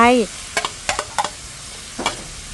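Pork being stir-fried in a pan with wood ear mushrooms, onion and bell peppers: a few separate scraping and stirring clatters spaced through the clip over faint background, after a short voice at the start.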